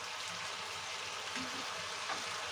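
Onion flowers frying uncovered in a pan, a soft continuous crackling sizzle heard at low volume throughout, with no talking.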